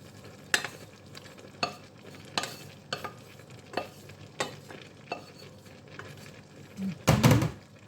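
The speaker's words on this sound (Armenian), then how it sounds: "հիմա կարմիր պղպեղն էլ կավելացնեմ, որ լավ եփվի, այսպես իրար խառնվի ու կանաչ ոլորը" Red pepper and green beans cooking in a pan, stirred with regular spaced scraping strokes over a soft sizzle, close by, finishing with a louder clattering burst.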